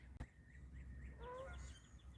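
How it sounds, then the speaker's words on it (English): Canada geese honking in a short series of nasal calls, a few birds at moderate distance over a quiet background. "You see where you hear the Canada geese?"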